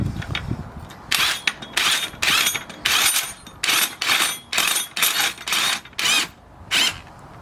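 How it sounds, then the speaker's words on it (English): A rattle gun (impact wrench) tightens a spring compressor onto a car strut, firing in about a dozen loud, evenly spaced hammering bursts with short pauses between them. "make sure you can get your bloody rattle gun on there"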